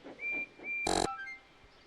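A steam engine whistle from Thomas the Tank Engine blows in a short, bright burst, preceded by thinner whistle tones and followed by a fading tail.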